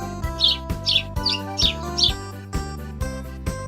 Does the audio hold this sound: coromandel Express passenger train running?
no